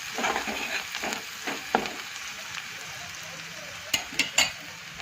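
Ground masala paste fries in hot oil for a Gujarati soybean and potato curry, a steady close sizzle with spoon stirring scrapes and a few sharp clinks of a utensil against the pan toward the end.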